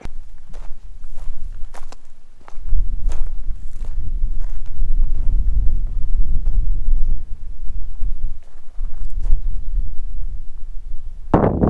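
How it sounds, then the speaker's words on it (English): Strong wind at an exposed campsite buffets the microphone with a constant low rumble and gusty bursts, with occasional crunching steps. "Might be a little windy"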